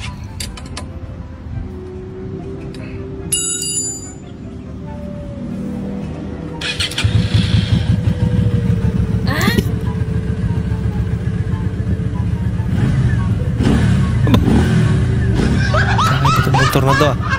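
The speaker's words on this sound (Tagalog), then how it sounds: "Motor na to ah." A motorcycle engine runs as a low, steady rumble that swells louder after several seconds and keeps going, with voices talking over it.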